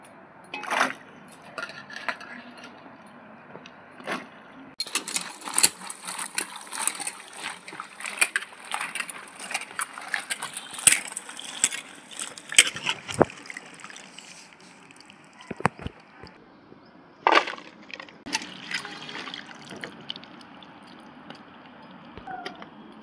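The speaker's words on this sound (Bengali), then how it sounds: "তা এখন আমি শাপলাগুলো একটু খুব ভালো করে ধুয়ে নেব" Cut water lily stems being washed by hand in a bowl of water, with repeated splashing and sloshing in irregular bursts, close and moderately loud, pausing briefly between handfuls.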